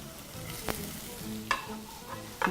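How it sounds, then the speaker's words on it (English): Onions sauteing in leftover oil in a pan for beef stroganoff, a low steady sizzle broken by a few sharp clanks of stirring or tossing, close and fairly quiet with no talking. "I'm going to use the remaining oil now to saute my onions."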